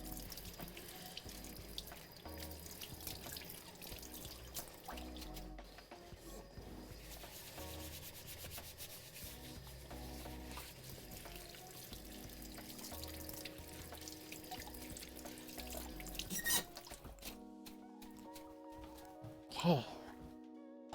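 A kitchen sink tap runs steadily while hands are washed and rubbed after grinding chuck roast into burger meat, with the water sound continuous at moderate level, then cutting off near the end.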